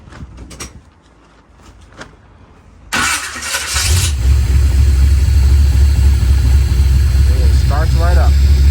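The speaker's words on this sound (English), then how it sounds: "It starts right up." A car engine cranks and starts after repair work on a Camaro/Firebird F-body, then settles into a loud, steady idle close by, following a few quiet knocks and clatter.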